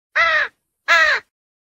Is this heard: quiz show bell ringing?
no